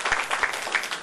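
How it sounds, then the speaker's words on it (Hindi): Audience applause welcoming a performer at the Atal Geet Ganga poetry event held at G D Khetan School in Malad, a steady wash of many hands clapping at moderate level with no voices over it. "जोरदार तालियों के साथ उनका स्वागत करें।"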